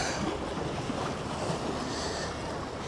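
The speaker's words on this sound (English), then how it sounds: "they're wet, which means the water is splashing up here" Ocean surf washes and splashes over wet rocks along a low-tide jetty on O'ahu, Hawaii, a steady close wash of water and wind noise with no pause throughout.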